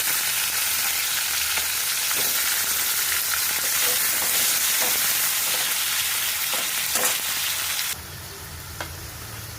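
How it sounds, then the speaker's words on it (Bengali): Potato pieces fry with a green chili and a bay leaf in hot oil, giving a loud, even sizzle with faint stirring taps, dropping abruptly to a quieter hiss near the end. "একটা আলু কেটেছি দিয়ে দিলাম আলু ভেজে নেব"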